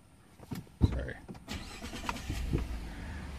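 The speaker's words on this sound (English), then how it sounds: "Let's turn the truck on." A Ford F-150 pickup starts up: a sharp crank-and-catch thump, then the engine settles into a steady, moderately loud idle as someone talks over it.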